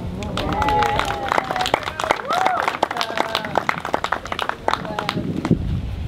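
Audience applause and cheering after a speech at a Dream Big Tour event, dense clapping with shouting voices and chatter throughout, fading near the end.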